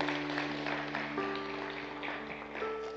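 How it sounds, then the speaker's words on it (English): A church congregation claps for the Lord during a Sunday morning worship service: a dense, steady wash of hand claps lasting throughout, with sustained keyboard or organ tones held underneath. "Give the Lord a hand clap if you would this morning"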